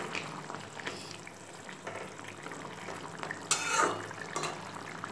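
Shol fish simmering in a bubbling curry in a pan, stirred gently, giving a soft continuous watery bubbling with a few faint scrapes and one brief louder splash, no talk.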